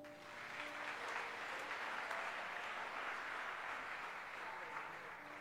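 A church congregation applauds, a sustained broad wash of many hands clapping together at moderate volume, steady throughout with faint voices mixed in.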